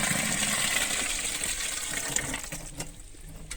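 Grape must for red wine being poured into the rest of the batch, giving a close, steady liquid gush that tapers off near the end with a few splashes.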